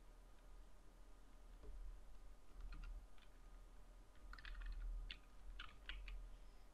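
Quiet, irregular keystrokes on a computer keyboard as an email address is typed, arriving in short bursts and clusters against a soft room hum, with no talking.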